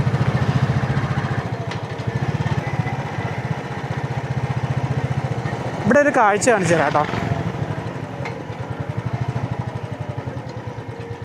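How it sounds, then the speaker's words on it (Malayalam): A tractor hauling sacks of tea leaves to the factories in the Valparai hills rumbles with a steady, pulsing engine drone. Someone talks over it, and a brief louder burst rises midway. "കണ്ടോ ആ ട്രാക്ടർ കണ്ടോ, അതൊക്കെ ഈ തേയില ചാക്കിലാക്കി ഫാക്ടറികളിലേക്ക് കൊണ്ടുപോകുന്നതാണ്"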